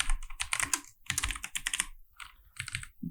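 Quick bursts of keystrokes on a computer keyboard while writing Kotlin code, close and clear, clattering in uneven clusters separated by short pauses with no talking.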